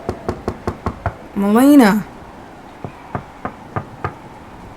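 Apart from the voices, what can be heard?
fists beating on a door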